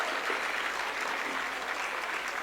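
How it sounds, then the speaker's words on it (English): Audience applause for teachers at a school annual day event, a steady dense wash of clapping from a large crowd that holds evenly throughout, with no speech over it. "they definitely deserve a round of applause."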